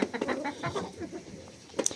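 A few soft clucks from hens nearby in a barn with goats, irregular and fairly quiet, with a faint higher bird call near the end.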